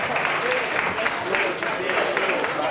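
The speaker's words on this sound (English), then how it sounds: "Yolanda Lizama Clark, please put your hands together and give a round of applause to Yolanda Lizama Clark." Audience applause at a Caribbean carnival breakfast event, a steady dense wash of clapping from a large seated crowd filling the whole stretch at even loudness.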